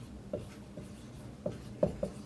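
Marker or chalk writing on a board, a few quiet scratchy strokes and taps at an uneven pace, close and faint.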